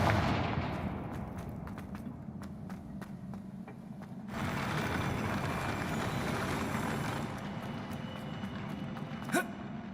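Fiery blasts and crackling impacts from the Confringo spell in Hogwarts Legacy, a burst of explosive effects with a sharp surge midway and a final bright crack, set over dense game background noise.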